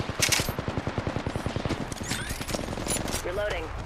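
Sustained automatic gunfire in a first-person video game, a fast, evenly spaced stream of loud shots rattling for about two seconds, then fading into scattered effects and a brief synthetic voice cue.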